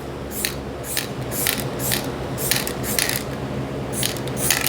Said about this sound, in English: White, we're gonna spray white here.